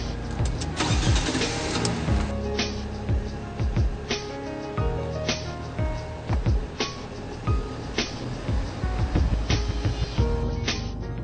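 A sluggish car engine cranking and starting, with a steady mid-range rumble and repeated surging pulses from the motor running throughout, close and fairly loud.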